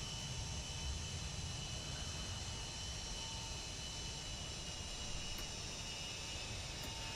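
An MD-83 jet takes off in a flight simulator game, a faint, steady jet-engine roar with broad rushing noise and a thin high whine, holding even throughout with no talking.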